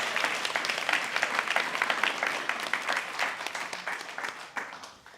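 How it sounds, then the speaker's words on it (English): Audience applause at a guide dog graduation ceremony: a full, dense round of clapping from a sizable crowd, loud at first and gradually tapering off over several seconds. "let's give them all a big round of applause"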